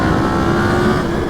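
Yamaha FZ-10 motorcycle engine running loud and close with a steady droning tone, revving hard as it pulls away, with no talking over it.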